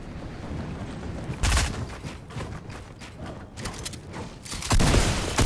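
Gunshots from a Fortnite-style shooter played on PS5, a sharp burst near the start and a heavier cluster of shots toward the end, loud and close over a steady game background.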